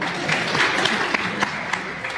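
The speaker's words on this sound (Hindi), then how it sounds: "एक बार इनके लिए जोरदार तालियां बजा।" Dense audience applause at a Hindi comedy poetry gathering, loud and steady for a couple of seconds with sharp individual claps standing out near the front of the crowd.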